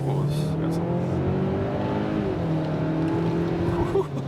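A 2021 Kia Sorento with front-wheel drive pulls away and accelerates, its engine drone rising steadily and close throughout, with cabin road noise underneath.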